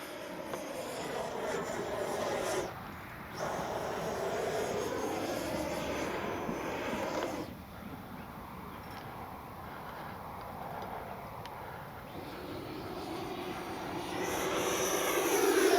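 An FMS Avanti S 90mm electric ducted-fan RC jet flying overhead, a steady high whine and rushing roar that dips briefly and then swells louder as it climbs and spins.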